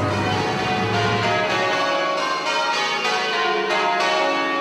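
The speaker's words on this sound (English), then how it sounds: "up there are the original bells of St Martin's, the parish church of Buckingham Palace" Original medieval church bells of St Martin's, the parish church of Buckingham Palace, ring in the bell tower, a dense continuous peal of overlapping tolls, loud and close, without talk.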